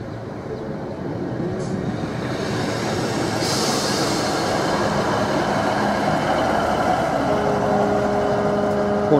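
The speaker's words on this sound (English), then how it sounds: "We got the 8:25 service from Ipswich now arriving." A Class 153 diesel train pulls into Felixstowe station on the service from Ipswich, a steady, loud rumble of wheels on rails with faint squeals as it arrives, no talking.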